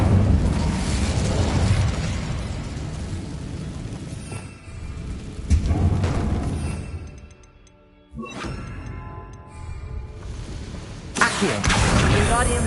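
The Incendio fire spell cast in Hogwarts Legacy, loud roaring bursts and booming blasts that fade into a quieter stretch before flaring up again, with talk mixed in.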